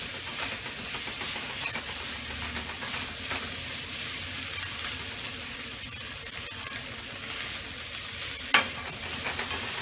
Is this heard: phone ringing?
no